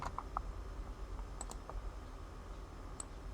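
Typing on a computer keyboard, a few scattered key clicks at an uneven pace, soft and close over a quiet room hum.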